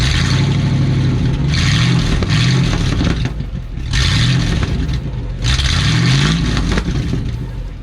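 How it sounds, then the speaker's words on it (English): Old project truck with open headers running, a loud, raw, rumbling engine revved in repeated swells and dropping back between blips, close by with rattling clatter, no speech. "I can't not do an open header start when I cut them off"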